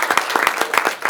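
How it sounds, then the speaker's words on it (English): Applause from a school board meeting audience honoring student athletes, short bursts of clapping from a moderate crowd, fairly close and steady throughout. "So let's give our Northwest Knights a big round of applause as well."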